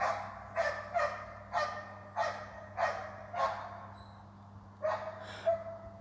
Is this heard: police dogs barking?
yes